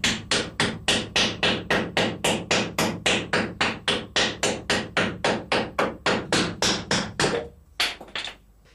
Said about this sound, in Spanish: El corte de las cuatro piezas que necesita el cuchillero para el mango lo hace a golpe de martillo